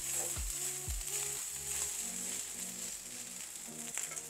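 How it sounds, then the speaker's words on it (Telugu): Fried rice with basmati and paneer being stirred and reheated in an oily pan, a steady close sizzle with scraping stir strokes running throughout. "ఫ్రైడ్ రైస్ని మిక్స్ చేసుకోండి"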